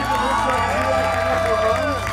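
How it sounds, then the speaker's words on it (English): A crowd cheers and shouts continuously at close range, a dense wash of voices with whoops rising and falling. "It felt awesome when the crowd had cheered for me"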